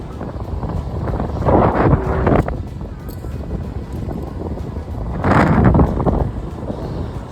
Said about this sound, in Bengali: ঢোকার সাথে সাথেই দারুণ একটা হাওয়া, পাহাড়ের হাওয়া।